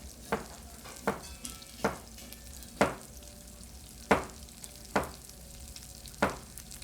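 Onions frying in a pan, a faint continuous sizzle punctuated by about eight evenly spaced sharp taps and scrapes of a utensil against the pan, with no talking.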